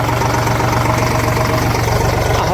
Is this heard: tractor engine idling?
yes